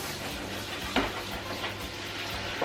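Water sizzling in a hot pan: a steady, close hiss of frying that holds evenly throughout, with a faint clink or two.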